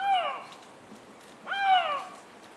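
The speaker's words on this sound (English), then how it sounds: "The lynx in heat." A Eurasian lynx in heat gives two drawn-out, tonal wailing calls, each rising then sliding down, clear and fairly close with a short silence between.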